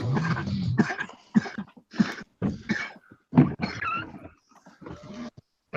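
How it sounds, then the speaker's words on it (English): A person has a coughing fit nearby: loud, rough, hacking coughs in a rapid series of bursts with throaty, gravelly rasps between them. "Who's having a coughing fit?"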